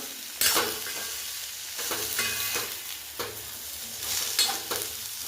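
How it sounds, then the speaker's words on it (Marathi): A spoon stirs boiled cauliflower in a pan over heat for matar gobhi. Repeated scraping strokes come at a steady rhythm over a soft, continuous sizzle, close and moderately loud, with no talking. "तर आता हे व्यवस्थित मिक्स करायचं या पद्धतीने."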